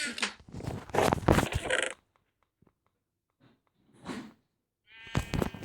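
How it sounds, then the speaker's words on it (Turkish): A Minecraft sheep bleats loudly a few times, with quiet gaps and small sounds between the calls. "Oha abi harbi koyun."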